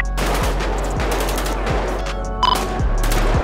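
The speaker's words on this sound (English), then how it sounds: "Oh, shit. Shots fired." Gunshots in LSPDFR, the police mod for GTA V, a rapid run of sharp close shots fired in quick irregular succession, loud and steady over a low humming background with no talk.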